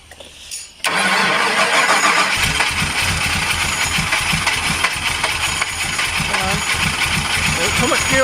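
An abandoned Ford Mustang GT Foxbody convertible engine cranks loudly and repeatedly, catching and sputtering as it tries to fire, with the starter churning steadily close by throughout.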